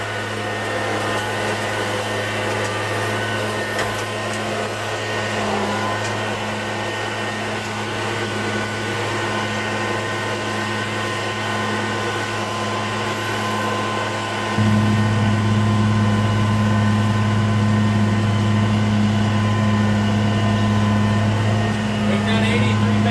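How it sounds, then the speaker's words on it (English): A tractor's PTO runs at about 980 RPM on the 1000 shaft while baling, a steady loud mechanical drone with a hum that steps up in level partway through and holds there. "we're gonna start our PTO up, get it up to about 980 RPMs on the 1000 shaft"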